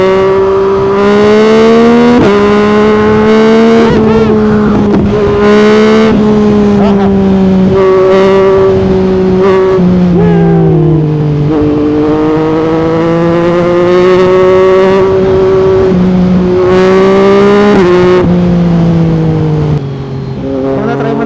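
A 2024 Yamaha MT-09 SP with the CP3 triple engine and an Akrapovic full exhaust system revs loud and close, its pitch rising and falling in long sustained pulls.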